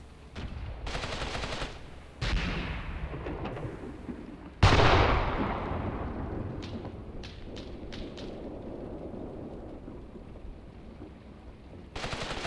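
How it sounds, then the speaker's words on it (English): Artillery barrage in the WWII tactics game Graviteam Tactics Mius, incendiary rounds followed by high explosive shells: a string of sharp booming blasts, one very loud near impact, then lingering rumble and scattered distant crackling detonations. "the incendiary fire is going to be followed up by high explosive shells"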